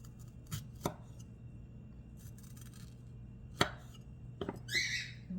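A knife slices a strawberry into a fantail on a cutting board, giving a few quiet, separate cutting taps and scrapes against a faint background hum.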